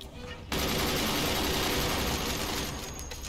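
Weapons fire during a Forts High Seas naval campaign: after a brief lull, a dense, rapid volley bursts in loudly and keeps rattling steadily for several seconds before easing slightly.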